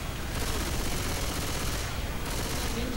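Rapid automatic fire from a mounted turret in Left 4 Dead 2, a dense steady rattle of shots running continuously throughout at moderate loudness, with faint game ambience beneath.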